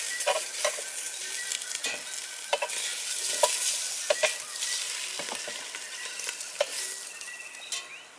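Lamb shanks sear in a hot pan at a camp cooking setup, giving a steady close sizzle with scattered crackles and occasional utensil scrapes and taps.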